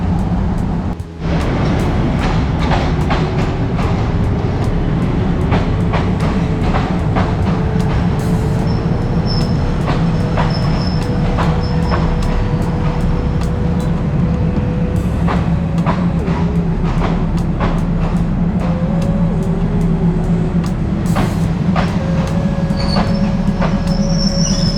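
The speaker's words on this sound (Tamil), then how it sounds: "நம்ம ட்ரெயின் வந்துருச்சு" A passenger train on the Bangkok to Ayutthaya line pulls into a station, loud and close, with a steady low rumble of wagons, rattling clatter and long metallic wheel squeals rising and falling throughout, no talking.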